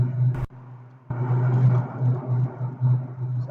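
A car with a 1.8T AGU engine starts up: a brief crank burst, a short gap, then the engine catches and settles into a steady, fairly close low running hum for the remaining seconds.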